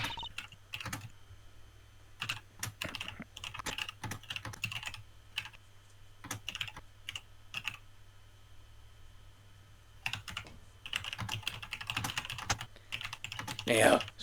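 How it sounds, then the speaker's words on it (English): Computer keyboard typing in the Ace Attorney Investigations game, bursts of quick light key clicks separated by short pauses, close and clear over a low steady hum. "stop typing."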